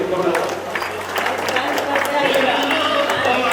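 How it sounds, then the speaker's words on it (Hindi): Audience applause at a seminar in Manesar, Gurgaon, a dense steady wash of many hands clapping throughout, with crowd noise mixed in. "भाई के लिए ताली का बड़ी जबरदस्त।"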